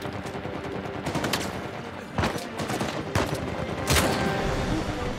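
Rapid bursts of gunfire from the video game Uncharted 4, several clustered volleys of shots with sharp louder cracks, continuous and fairly loud with no talking.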